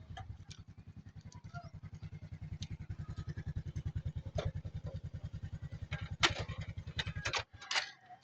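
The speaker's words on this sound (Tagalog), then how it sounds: "Patayin ko lang yung motor ko." A motorcycle engine idles nearby with a steady, even putter for several seconds, then cuts off abruptly, leaving a brief rustle of handling noise.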